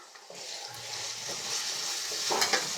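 Biryani ingredients with ginger garlic paste sizzle in a pan while being stirred, a steady close hiss of frying that grows a little louder, with a couple of soft utensil scrapes near the end.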